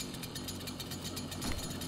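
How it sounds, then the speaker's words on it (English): A chainsaw in the video game DOOM 2016 revs with a harsh, continuous buzzing rattle, loud and close, swelling slightly near the end with no talk over it. "Got my chainsaw all bloodied up and ready to cut someone."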